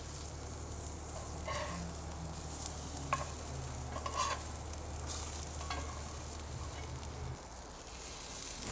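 Salmon fillets sear skin side down in a hot skillet, a steady close sizzle running throughout, with a few soft clinks and scrapes as the pieces are turned over.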